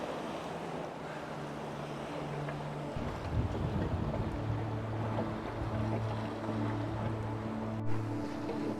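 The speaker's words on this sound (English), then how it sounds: "Wind is increasing through the sound here, 26, 27 knots now" Wind blowing at about 26 to 27 knots while a sailboat moves at 7.5 knots off the Swedish west coast gives a constant rushing roar with microphone buffeting, water wash and a low drone, and no talk.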